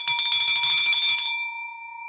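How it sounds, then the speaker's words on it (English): A bell struck with a bright metallic clang, a busy burst of ringing for about a second, then a clear sustained tone that decays slowly; no talking. "Let's ring that bell."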